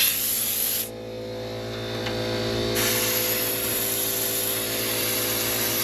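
A spray paint can hisses steadily and close while coating a go kart part, a continuous airy spray with a brief pause early on before it resumes and holds, with no talking.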